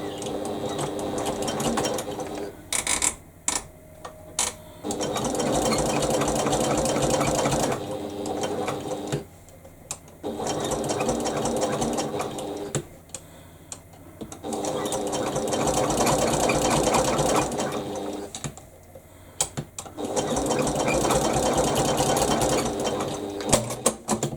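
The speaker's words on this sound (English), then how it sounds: "I'm just going to pop to the machine to stitch down each side." A sewing machine stitches down the sides of a fabric sling bag in long, steady mechanical whirring runs, stopping briefly between seams, close and clear with no talk.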